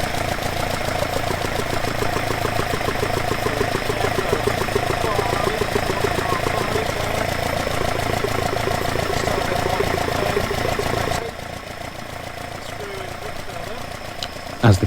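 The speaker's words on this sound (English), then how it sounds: "you hear the tone of the engine changes" A car engine with twin Dellorto/Weber carburettors idles steadily and loudly throughout, a constant mechanical drone with fine rapid pulsing; the tone shifts and drops slightly near the end as the carburettors are balanced.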